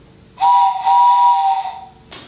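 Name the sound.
imitated train whistle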